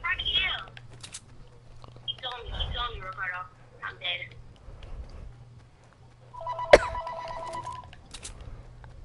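A phone rings during an online shooter game, a steady electronic ringtone near the end cutting in briefly over game sounds and people talking.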